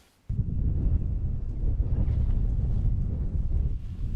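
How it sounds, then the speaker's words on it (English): Steady, heavy wind on the Scottish coast near Whithorn buffeting the microphone while cycling, a constant low roar that starts abruptly and continues without letup, with no voices. "It was very windy and the weather was very changeable."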